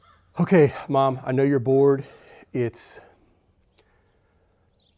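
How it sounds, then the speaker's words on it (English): A crow caws once or twice in the background outdoors, short and fairly faint, heard just after a person speaks nearby. "I guess there's a crow in the background."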